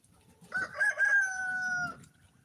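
A rooster crows once, a drawn-out cock-a-doodle-doo lasting about a second and a half, moderately close, with faint clucking and low background noise around it.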